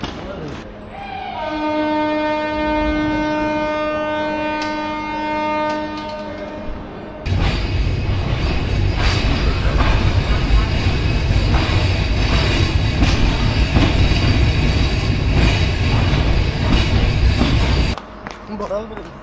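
Padma Express passenger train on its Dhaka to Rajshahi run, a steady loud rumble of running rail cars and wheels that swells after a tonal horn-like opening, continuing for most of the clip before dropping off near the end.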